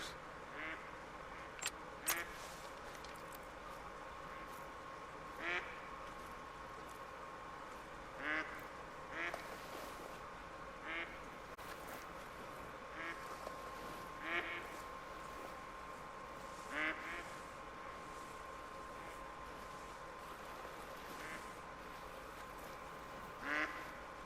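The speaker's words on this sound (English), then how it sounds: "I remember ducks are like insanely hard to sneak up on." Ducks quack repeatedly across the wetland soundscape of theHunter: Call of the Wild, short calls at irregular intervals over a steady ambient bed of water and nature sounds, with no talk over them.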